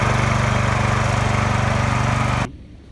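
A BRAIT BR-135GEDS walk-behind tractor engine runs loud and close with a steady, rapid putter while driving in reverse, then cuts off abruptly near the end, leaving faint background.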